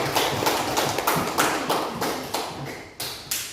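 Classroom applause after a lesson, a small group clapping in a loose patter that rises and fades in short waves, close and clear with no talk.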